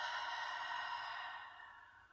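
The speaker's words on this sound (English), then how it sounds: "I'm really exaggerating it. You don't have to exaggerate it nearly like I am, but breathing in and out." A single deep, exaggerated breath is taken in and then let out slowly, as a soft, airy, steady rush that fades toward the end, heard alone without talk.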